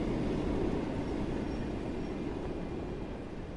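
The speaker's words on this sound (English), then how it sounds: "That's a tram... Oh yeah, there's trams in this, I think." A tram rolls past in the Train Sim World game at night, a steady broadband rumble of wheels on rail with faint clatter, loud and close throughout, easing slightly toward the end.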